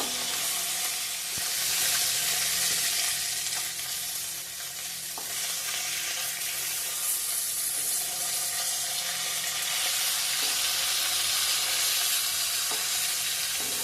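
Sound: fish frying in oil, sizzling

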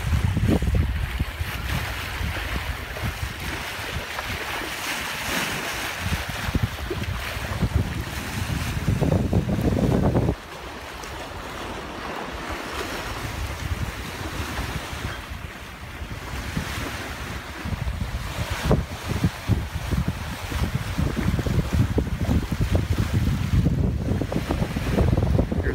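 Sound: sailboat sailing with wind and waves

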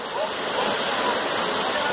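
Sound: waterfall, rushing water

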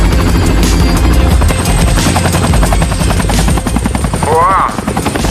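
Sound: helicopter taking off

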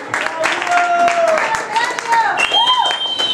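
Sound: audience applause at live show

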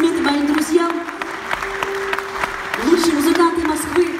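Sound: applause

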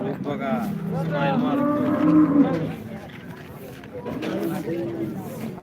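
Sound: cow mooing at a cattle market

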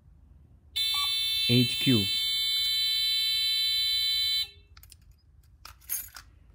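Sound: security alarm going off, zone violated

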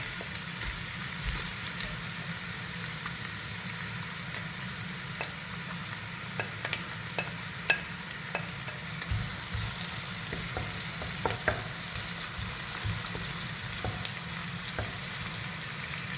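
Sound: garlic sizzling in frying pan, Kerala rabbit roast

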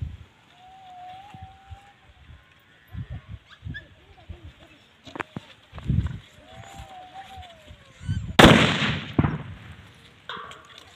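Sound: firecracker exploding under a tin can

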